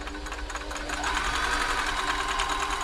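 A serviced Riccar 8400 sewing machine running a straight stitch, its motor whirring and needle clattering steadily up close, picking up speed after a brief softer start.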